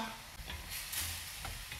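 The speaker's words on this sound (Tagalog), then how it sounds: "ilalagay na natin ang ating bell pepper or paprika" Bell pepper is stirred into tomato broth in a cooking pot, giving a faint, continuous wet sizzle with soft scraping strokes of the utensil, close and quiet.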